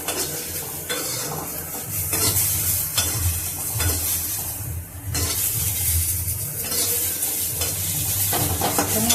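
Okra sautéing in hot oil in a pan for a sambar recipe, a loud continuous sizzle broken by repeated scraping stirs of a utensil against the pan, close up with no talking.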